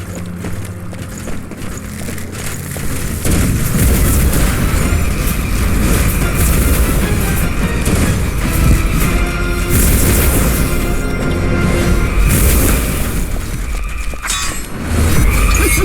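Explosions and smashing destroy a mana shipment in the video game Dungeons 4, forming a dense, loud wash of booms and crackling debris that carries on without a break.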